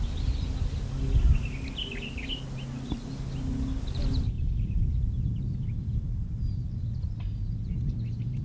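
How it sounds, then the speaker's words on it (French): Many birds sing and chirp among trees in Dhofar near Salalah, bright scattered calls layered over a steady low background rumble, busier in the first half and thinner afterward. "On entend énormément d'oiseaux, donc ça c'est très cool."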